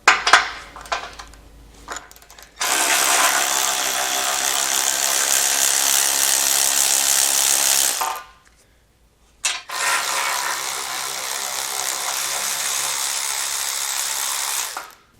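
A ratchet with a 15mm socket spins off bumper beam bolts, two long bursts of rapid metallic clicking up close, separated by a short pause, with a few taps and handling sounds before the first burst.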